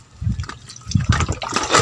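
Water poured into a bucket, splashing and gushing unevenly with a few heavier slaps and a rising filling rush toward the end, close by and fairly loud.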